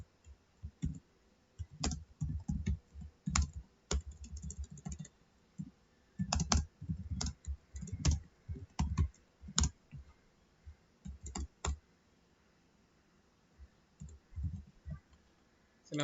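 Someone types a hate comment on a computer keyboard, giving bursts of fast key clicks with short pauses in between. The clicks are close and moderately loud, with no talking.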